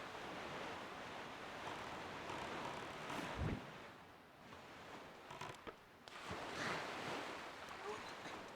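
Ocean waves rolling while sailing across the sea in the Zelda game Wind Waker, a broad wash of surf and wind noise with swells rising and falling, steady and moderately loud.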